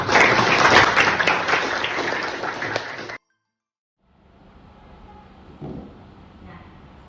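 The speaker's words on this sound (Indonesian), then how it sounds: "Tepuk tangan untuk kalian semua." Applause from a school class, the MIPA science group, a dense burst of clapping that fills the first three seconds and then stops abruptly, leaving faint room noise and a few soft scattered sounds.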